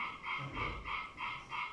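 Frogs croaking in a steady rhythmic series of about six pulsing calls, fairly faint, with no talk over them.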